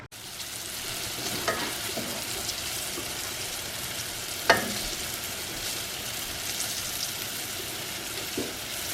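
Steady sizzling of chicken frying in a pan, a constant crackling hiss with a few brief clinks of a utensil.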